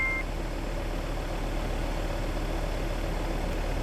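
A steady car engine idles at 1,000 rpm, a constant even rumble with no change in pitch, heard alone.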